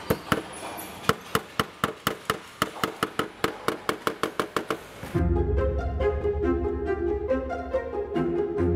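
A roofer trims slate for a château roof with a hammer, about twenty sharp close taps in a quick even rhythm, followed by a steady mechanical hum.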